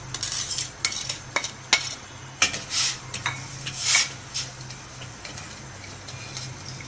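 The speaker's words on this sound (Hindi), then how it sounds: "अब 2 कप हम इसके अंदर चीनी ऐड कर रहे हैं।" Sugar pours into water in a pan for gulab jamun syrup, with scattered clinks, scrapes and grainy rustles against a low steady hum, no talking.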